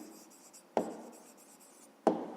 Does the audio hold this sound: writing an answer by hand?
yes